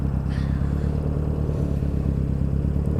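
A go-kart motor runs steadily and close by, a continuous low, throbbing drone with a buzzy edge that holds an even level throughout.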